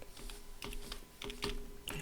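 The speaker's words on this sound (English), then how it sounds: "I will then type South" Typing on a computer keyboard while entering text into an Excel spreadsheet: a few soft, quick key taps in small clusters, faint and close with no talk.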